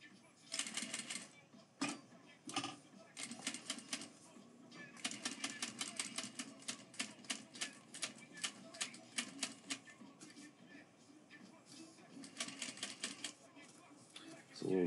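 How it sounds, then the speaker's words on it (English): A sewing machine stitches Gore-Tex fabric for a reworked five-panel hat, running in quick rattling bursts with short pauses as the material is fed by hand, with a voice talking now and then. "It's a little tricky sewing Gore-Tex like this."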